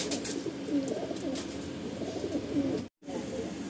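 Andhra pigeons, black birds among a pigeon collection, coo in a steady, rolling murmur that runs almost continuously at close range before a brief gap.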